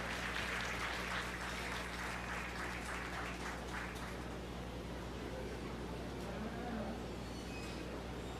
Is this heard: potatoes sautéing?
no